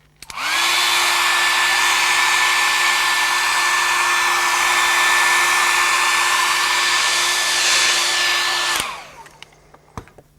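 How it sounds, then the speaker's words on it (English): A hair dryer blowing hot air across watercolour painting paper runs steadily and loudly for about eight seconds with a constant whine, then powers down and trails off into quiet. "So when you're drying, keep the dryer away from the paper as much as possible so that it's hot air over the top of the paper"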